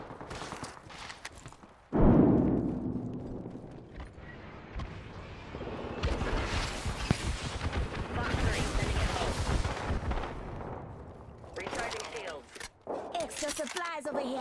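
Gunfire in Apex Legends during a battle royale fight, a heavy burst opening loudly and then dense, sustained shooting and combat noise, with a voice calling out briefly and other game sounds mixed in.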